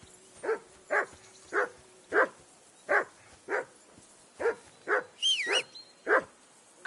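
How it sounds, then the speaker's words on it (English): A dog barks in Kingdom Come Deliverance II, a steady run of about a dozen evenly spaced, mid-distance barks with a brief high whine near the end. "I assume you can hear that damn dog of yours barking."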